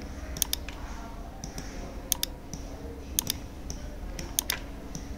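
Typing on a computer keyboard while entering text for a card design, heard as sparse clusters of light, crisp key clicks in small bursts at close range over a quiet, steady background.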